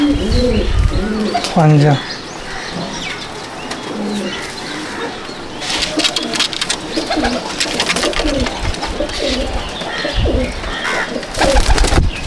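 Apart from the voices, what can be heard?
pure pigeons cooing in loft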